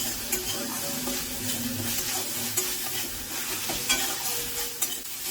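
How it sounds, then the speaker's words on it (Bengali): Spice paste for a Bengali rui fish tok is sautéed over low flame in a pan with small splashes of water, giving a steady soft sizzle and frying crackle with scraping stir strokes throughout, alone and fairly close. "লো ফ্লেমে রেখে অল্প অল্প জল দিয়ে মশলাটাকে কষিয়ে নেবেন।"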